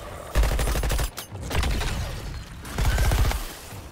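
Gunfire in the Suicide Squad: Kill the Justice League video game, with loud, rapid bursts of automatic shots in two main volleys and a rattling spell between.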